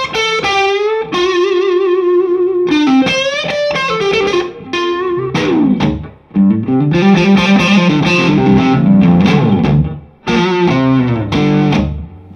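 Distorted electric guitar with looser strings, playing a loud, wailing lead with wide vibrato, bends and sustained notes, broken by brief pauses; no talking.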